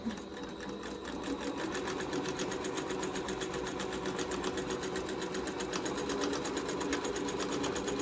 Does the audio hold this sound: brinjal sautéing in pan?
no